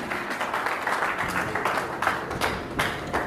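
Audience clapping at a staged talk-show event as a chairman and TV, film, stage and radio star is welcomed: a dense, steady wash of many hands with a few sharper bursts, filling the whole moment without talk.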